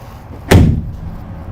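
The walk-through door of a 2021 Cimarron Norstar four-horse gooseneck trailer shuts with a single loud, close metallic slam that rings briefly and fades, with no talk over it.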